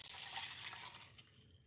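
Dirty wash water poured out and dumped into a container, a steady close splashing rush that tapers off toward the end, with no voices.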